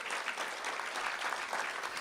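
Applause rises in a school district board of trustees meeting, a dense, even patter of many hands clapping at moderate volume from start to finish, with no one talking.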